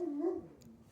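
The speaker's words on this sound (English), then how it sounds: "it's my dog barking" A pet dog gives a brief, high whimpering whine that slides and fades, followed by a faint short yip, close by and alone for about a second.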